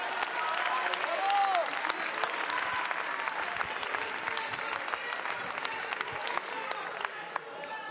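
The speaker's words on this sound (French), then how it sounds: "on applaudit, hein, formidable" Sustained applause from a large audience, dense clapping that stays fairly even throughout with a voice briefly audible over it.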